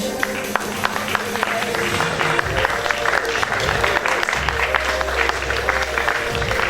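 Pageant spectators clap for a Miss Aisne 2020 candidate, sustained applause with scattered sharp claps over background music, a low bass tone and faint voices.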